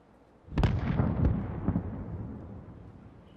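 Sudden loud gunfire blast in Call of Duty: Modern Warfare, a sharp burst followed by a few more booming shots that ring out and slowly fade, heard alone with no talk.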